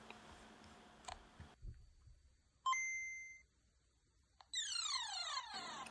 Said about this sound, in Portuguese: vamos então ligar o Game Boy e verificar se temos som ou não